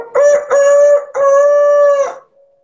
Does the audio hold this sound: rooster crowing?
yes